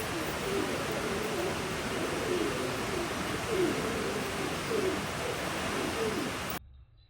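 Pigeons cooing in a coop where a female has raised a chick, soft repeated coos over a steady hiss of background noise, fairly faint, with no talking.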